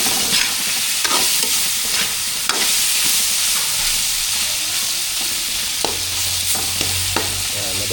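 Milkfish with pork fat fries in a pan as the fat renders out, a loud, constant close sizzle broken by repeated sharp scraping stirs and a low hum late on.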